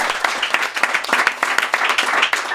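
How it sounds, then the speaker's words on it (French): Applause from the audience at a live podcast recording, a close, lively burst of many hands clapping with uneven sharp accents throughout the short stretch. "On les applaudit."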